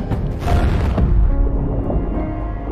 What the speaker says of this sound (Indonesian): Hingga sepersekian detik kedua bom itu meledak.